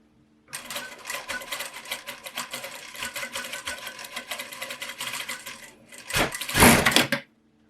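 A sewing machine stitches a narrow pin hem close to the fold, running in a steady fast rattling whir for several seconds, briefly pausing, then a louder final burst before stopping.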